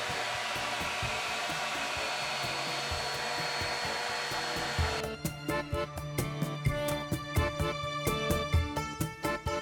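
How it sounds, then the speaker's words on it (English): A vacuum cleaner roars steadily up close, then partway through a fast rattling pulse joins in as cut grass scenery material is sucked up through a cut-up sock fitted over the hose end. "you put it on the end of the vacuum hose"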